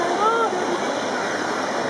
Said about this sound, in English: I didn't notice the waterfall on the side